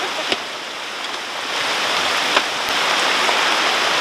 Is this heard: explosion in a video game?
no